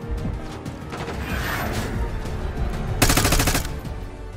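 Automatic weapon fire in Call of Duty Black Ops 6, with rapid bursts crackling over a dense battle din and a loud sustained burst near the end, close and harsh.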